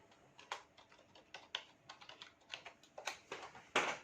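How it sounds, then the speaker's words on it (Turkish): Fast keyboard typing on a PS4 setup, with irregular bursts of close, crisp key clicks that build to a heavier cluster of presses near the end, heard alone without talk. "Klavyemi de alayım."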